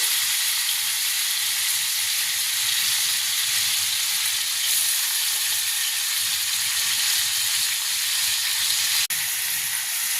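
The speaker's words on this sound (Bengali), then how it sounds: "পিসগুলোকে এবার এক এক করে নিয়ে ফ্রাই করে নেব।" Chicken pieces for a Bengali-style chicken butter masala fry in hot fat in a pan, giving a loud, steady, close sizzle that runs unbroken throughout, with one brief dip near the end.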